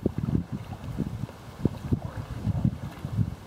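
A boat is paddled downriver on a calm stretch, with soft irregular splashes and knocks of paddle strokes close by under steady wind noise.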